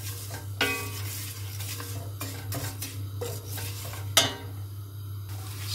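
Thin vermicelli noodles toasting in a pot for a homestyle meat soup, with scraping stirs and sharp utensil knocks against the pot over a steady low hum.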